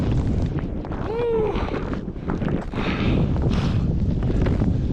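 Strong gusts on snowy Taebaeksan mountain roar continuously, buffeting the microphone in heavy low rumbles with a brief whistling tone, loud and close.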